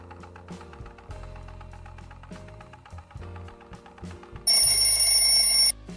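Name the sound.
countdown timer sound effect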